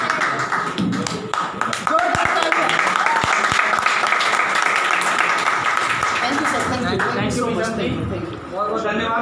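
An audience claps together at the close of an education centre opening event, a dense steady burst of applause while a voice talks over it.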